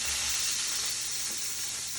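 Spinach sautéing in a hot pan makes a steady, close sizzle and hiss that holds evenly throughout.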